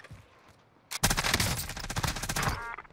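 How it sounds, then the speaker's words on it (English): Rapid bursts of gunfire in Warzone on Rebirth Island, near and loud, starting abruptly after a quiet stretch and rattling on in dense automatic volleys for about two seconds before easing off. "Might have been Kem just shooting at me."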